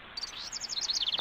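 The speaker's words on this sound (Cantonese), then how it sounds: "係隻雀公同隻雀乸喺度打緊架。" Chirping of a male and a female bird fighting: quick high tweets in bursts, close and moderately loud, with no voices.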